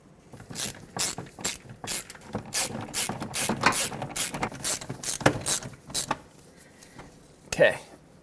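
A ratchet tightens a 15mm mounting nut on a power steering line bracket of a 2009-2014 Ford F-150, making rapid close clicking bursts in uneven runs.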